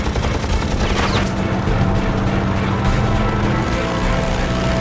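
Rapid bursts of fighter plane machine gun fire crackle loud and dense for several seconds, a continuous rattling fusillade with an engine drone beneath.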